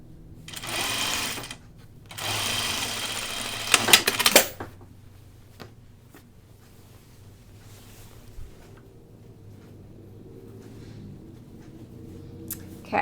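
Sewing machine stitching the underarm seam of a tunic, running in two steady bursts of a second or two each, then a few short clicks and handling noises before the room goes quiet.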